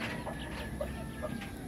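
Native chickens on a farm cluck softly at feeding time, with several short, scattered calls over steady outdoor background noise and no talking.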